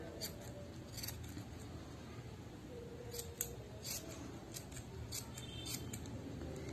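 Scissors repeatedly snip while trimming a yarn pompom made without a pompom maker, crisp close cuts in an irregular series over a low background.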